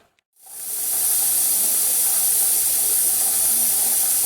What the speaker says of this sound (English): we're starting to get a rattle from our weight